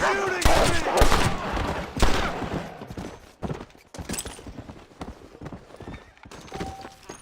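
Gunfire in the western video game Red Dead Redemption: a loud burst of several sharp shots up front, then scattered quieter shots and hoofbeats, with a voice speaking briefly.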